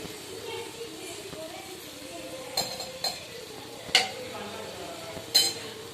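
Chicken for biryani being sautéed and stirred in a pan, a soft steady sizzle under scraping, with a few sharp metallic clinks of a spoon against the pan.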